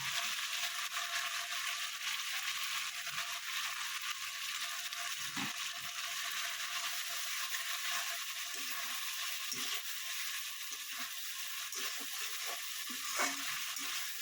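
Tangra fish frying in a pan of cooked-down spice masala, a steady broadband sizzle throughout with occasional soft stirring clicks and scrapes, close and continuous with no talk.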